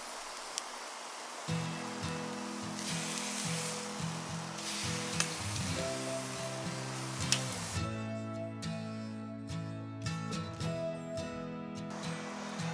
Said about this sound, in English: now everything's on the grill, single layer, cooking nicely